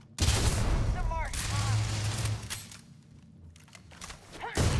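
Gunfire in the space video game Starfield, a loud rapid burst of weapon blasts and booms up close with sci-fi whooshes, easing off then returning with another sharp volley; a player's voice speaks briefly over it.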